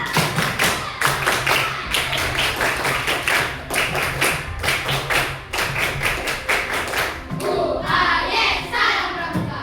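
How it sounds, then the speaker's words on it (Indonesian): A class of schoolchildren claps the Pramuka scout clap twice, a string of sharp, rhythmic group hand-claps in bursts that fill the room, with a softer scattered clatter near the end. "2 kali tepuk pramuka"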